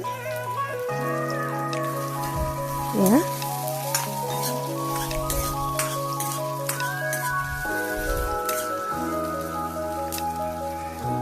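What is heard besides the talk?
onions frying in oil until crispy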